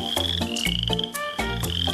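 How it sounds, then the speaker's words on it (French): A large frog croaks in deep, rhythmic bursts, four or five loud pulses close by, over a steady high-pitched tone and musical background, with no one speaking. "une grenouille au grand menton"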